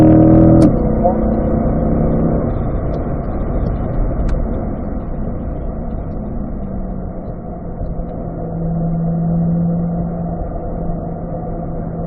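Race car engine droning steadily in fifth gear at speed during a hot lap, a loud continuous roar that shifts pitch slightly as it pulls down the straight, with a sharp click near the start.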